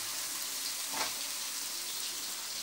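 Water poured into a hot pan hisses with a steady, broad sizzle while mangut lele, a catfish dish, cooks; a brief louder splash rises about midway, then the frying hiss settles back to an even level.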